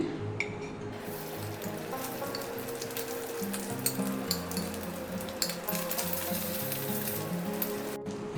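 Grated coconut fries in mustard oil with a steady, dense crackling sizzle, close and continuous, like light rain on a surface, with a faint low hum underneath.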